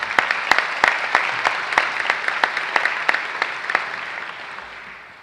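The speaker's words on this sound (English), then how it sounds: "so give these people a big hand of applause." An audience at a spring commencement ceremony applauds, filling the room with crowd clapping and a few sharp, distinct claps standing out before the applause gradually fades.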